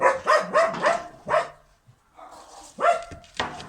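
Dogs bark in short, loud bursts, several in quick succession, then a pause with a faint whine before a few more sharp barks close by.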